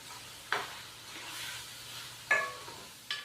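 Chicken browning with spices in a pan for okra chicken, with a low steady sizzle broken by three sharp scraping stirs, no voices.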